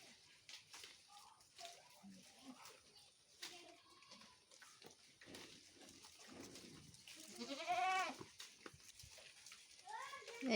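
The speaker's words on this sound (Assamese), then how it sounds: "এইখিনি আমাৰ ঘৰৰ ছাগলী।" Goats kept at a rural Assamese home bleat a few times, wavering cries that grow louder toward the end, amid ongoing talk and a voice nearby.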